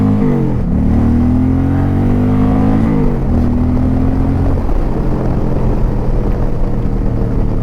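Indian 112 PowerPlus V-twin motorcycle on a 2025 Challenger or Pursuit, heard on a ride: a loud, close engine pulling hard and rising in pitch, a brief dip at a gear change, then climbing again into continuous roaring wind and rumble.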